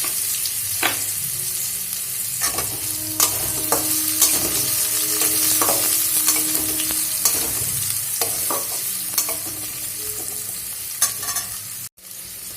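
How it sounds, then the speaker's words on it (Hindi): Chopped onion sizzles steadily in hot oil in a pan while being stirred, with repeated spoon scrapes and clinks over the continuous frying hiss, close and fairly loud, no talking. "अब इसमें हम डाल देंगे एक कटा हुआ प्याज।"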